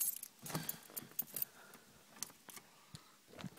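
Car keys on an Italian key fob jangling and clinking faintly in intermittent bursts, close by, with small metallic taps and rattles between.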